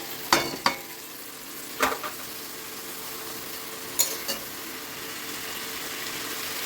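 Vegetables for khichuri fry in a pot with a steady, close sizzle, broken by a few sharp clinks and scrapes as a spoon stirs them, spaced out over the sizzle.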